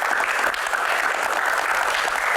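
Studio audience applause during a talk-show Q&A segment, a dense, even wash of clapping from many hands, continuous and fairly loud with no speech over it.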